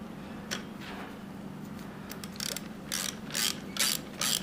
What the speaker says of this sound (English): But I can get out to the ratchet over here.